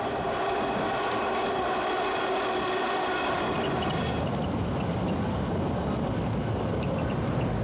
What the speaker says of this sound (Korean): 이제 기차는 이 여행의 마지막 목적지를 향해 달려간다